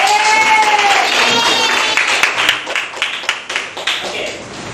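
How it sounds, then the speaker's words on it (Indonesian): Classroom audience clapping hands during a lesson, a short burst of claps rising through crowd noise and voices, then settling into a few scattered, separate claps. "Oke, beri tepuk tangan."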